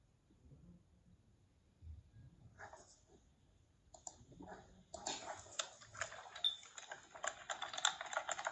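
Rapid typing on a computer keyboard in a quiet room, soft at first then growing denser and louder, with irregular bursts of key clicks and no voices.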